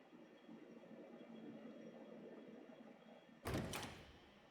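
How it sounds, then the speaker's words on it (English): A door clicks in a Tsukihime visual novel scene: a single short knock-like thunk near the end, sharp and fairly close, after a stretch of soft low background hum. "Faintly, I can make out the click of the door."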